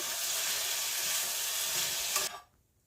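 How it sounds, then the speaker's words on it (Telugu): Whole spices and ingredients fry in hot oil in a pan for a masala paste, a loud, steady, close sizzle that runs unbroken, then cuts off abruptly near the end, leaving quiet. "ఆయిల్లో ఒక 2 మినిట్స్ వేయించుకుంటున్నా."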